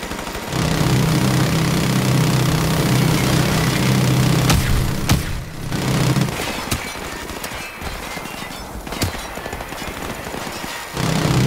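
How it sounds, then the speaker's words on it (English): Minigun fire in Call of Duty Modern Warfare: a sustained, loud mechanical buzzing roar runs for about six seconds, then gives way to scattered shots and rumbling game noise. "I don't like using the minigun"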